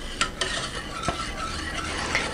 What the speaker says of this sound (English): once this starts to heat, we want to keep whisking